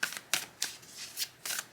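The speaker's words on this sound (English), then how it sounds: "I will pull cards now" Tarot cards being shuffled, close and crisp, in about six quick riffling bursts separated by short pauses.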